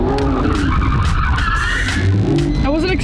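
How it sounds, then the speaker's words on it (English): A Lamborghini drives past, with a loud engine and squealing tires close by in a busy street setting, while people talk over it. "Lamborghini."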